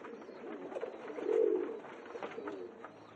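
Pigeons coo softly nearby, a low throaty burst swelling in the middle over faint continuous background warbling.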